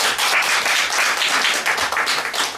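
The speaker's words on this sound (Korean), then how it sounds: "많은 박수와 격려를 부탁드리겠습니다" An audience at a Korean charity foundation's inauguration ceremony for a new board chairman gives loud, sustained applause, many hands clapping densely and evenly for the whole stretch.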